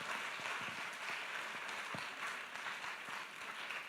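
Applause from a congregation acclaiming the Lord at an Easter church program, a continuous, fairly soft wash of many hands clapping with a few sharper claps standing out.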